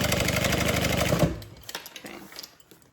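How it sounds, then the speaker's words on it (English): A sewing machine runs steadily while back stitching the center seam of a handbag, a dense continuous whir for just over a second, then it stops and a few small clicks and handling noises follow. "Back stitch that center seam"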